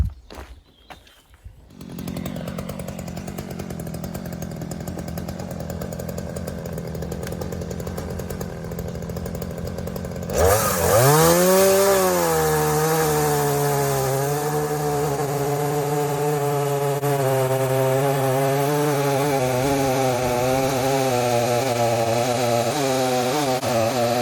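A small, inexpensive Stihl MS 210 chainsaw rigged to a simple mill runs loud and close, idling at first, then revving hard and staying at a steady high whine as it cuts lengthwise through wood.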